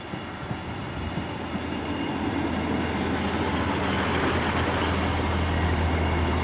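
Class 158 diesel multiple unit arriving at platform 1 of Selby station on a Halifax to Hull service, a steady rumbling roar of engine and wheels that grows slightly louder as it pulls in.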